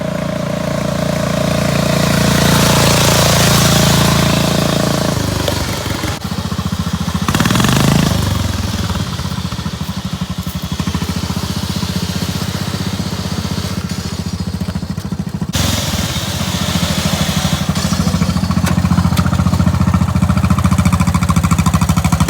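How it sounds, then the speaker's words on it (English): A small engine rumbles loudly and continuously, revving and dipping as an off-road riding lawnmower bumps along close by. "there's my brother driving the off-road lawnmower"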